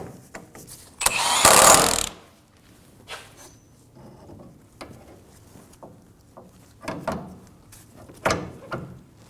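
A hand tool snugs down the nut on the pitman arm of a 2019-2025 Ram 2500, with a brief loud burst of ratcheting near the start, then scattered close metallic clicks and clanks.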